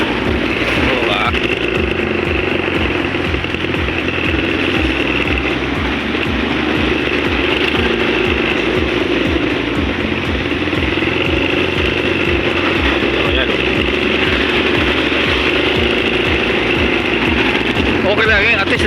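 Motorcycle engine running steadily while riding, a loud continuous rumble with wind buffeting throughout, and people talking over it.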